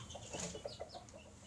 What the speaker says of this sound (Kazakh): Міне ана тауық туайын деп тұр.